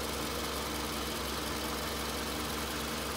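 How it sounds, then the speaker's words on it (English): A 2004 Toyota Highlander's engine idles steadily at close range, a constant low rumble with a faint mechanical hum and no change in pace throughout. "Here's an engine."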